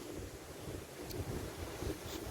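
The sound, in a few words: sea waves and wind on the Holderness coast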